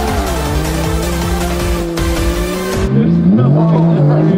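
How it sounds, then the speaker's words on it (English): A car drifts with sustained, wavering tire squeal and a roaring engine that shifts pitch, loud and close, with voices talking over it. "no point is he driving straight. It is only drifting."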